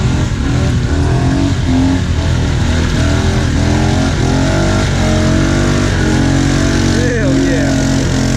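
Several Honda ATVs rev hard through deep mud at an ATV park, engines loud and close with constant roaring and rising throttle bursts, while people shout and cheer over the noise.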